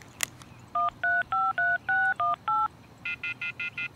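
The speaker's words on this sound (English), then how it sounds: "I took out my cell phone and dialed the first number from my contact list." Cell phone keypad dialing in the visual novel Everlasting Summer: seven clear touch-tone beeps in an irregular run, then a quicker, evenly spaced series of shorter tones, crisp and alone after a brief click.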